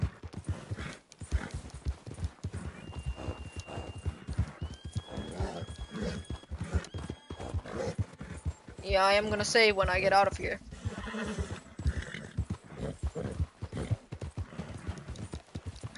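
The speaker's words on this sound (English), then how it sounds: "Lazy ass horse, let's go!" Horse hooves clip-clop steadily in Red Dead Redemption 2, with a whinny partway through, while someone talks over much of it.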